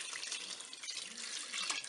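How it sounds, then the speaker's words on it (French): Water poured into a Cookeo pot for tuna spaghetti, a steady faint hissing splash running unbroken for about two seconds, alone. "je vais rajouter de l'eau."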